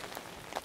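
Heavy rain coming down on a street in North End, a soft steady patter with a couple of brighter drips, heard up close under an umbrella on a walk, no talking.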